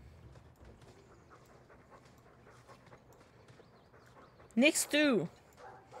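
A pair of dogs in the fantasy role-playing game Dragon Age II pant softly, then one breaks into a short burst of loud, close barks and yelps near the end, with someone talking underneath.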